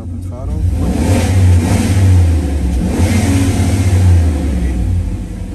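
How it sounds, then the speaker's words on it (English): GM car engine, fitted with a replacement ECM, revving hard at wide open throttle; a loud, steady mid-range roar that swells and holds for several seconds with a voice talking over it. "Wide open throttle."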